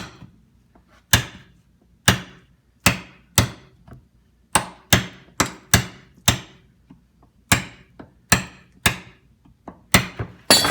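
A tool taps wood to make wormholes for distressing the surface. About sixteen sharp, close knocks come at an uneven rhythm, each ringing briefly over a quiet background.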